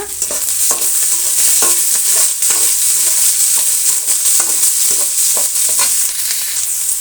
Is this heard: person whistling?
no